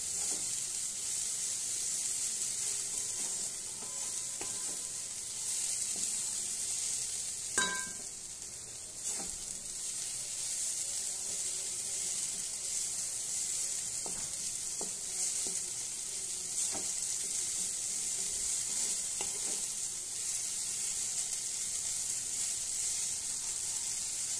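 Potatoes and neem leaves fry in a pan with a steady, dense sizzle throughout, broken by a few sharp scrapes and clinks as a spatula stirs them; no one speaks.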